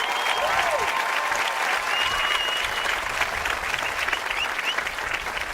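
Sustained, loud applause from a graduation ceremony crowd cheering the graduating class of 2023, steady clapping filling the hall throughout with scattered whoops on top.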